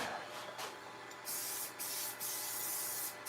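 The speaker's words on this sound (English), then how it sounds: "let me spray a little more activator on that" Several short hissing bursts from an aerosol can of super glue activator, close by, each lasting around a quarter to half a second, with a longer spray near the end.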